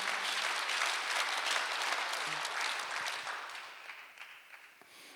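A church congregation at a Sunday worship service breaks into steady applause that holds for several seconds, then fades into a few scattered claps.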